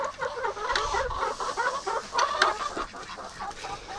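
Several chickens cluck steadily and close by on a farm, a continuous busy mix of short clucks and calls with no talking.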